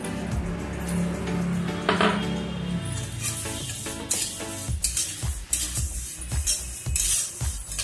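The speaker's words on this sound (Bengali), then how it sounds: "আমাদের তিলটা দিয়ে দিচ্ছি, তিলটা একটু ভেজে নেব।" Sesame seeds dry-roasting in a pan for sesame laddoos, stirred with a spoon that scrapes and clinks against the metal in a steady rhythm over a soft, continuous sizzle.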